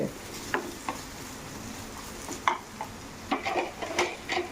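Cashews and curry leaves frying in a pan for a coconut-free chutney, with a steady low sizzle broken by several sharp scrapes and clinks of a spoon stirring against the pan.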